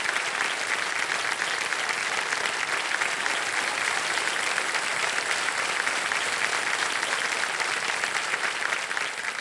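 Studio audience applause fills a televised KBC quiz show set, a dense, steady wash of many hands clapping at full volume for nearly ten seconds with no talk over it.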